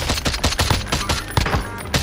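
Gunfire in the video game Call of Duty: Modern Warfare, a loud rapid string of sharp shots in an uneven rhythm, close and dominant.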